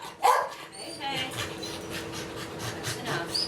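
A dog whimpers and gives short barks during a training session, with a sharp yelp near the start, then steady whining and sniffing close by while a person speaks over it.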